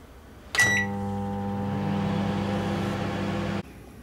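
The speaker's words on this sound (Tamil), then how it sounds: "இதை வந்து நம்ம ஒரு 1 மினிட் வந்து மைக்ரோவேவில் வைக்க போகிறோம்" Microwave oven running on high power while cooking chutney: a short beep and door-start clunk, then a steady, close mechanical hum for about three seconds that stops abruptly.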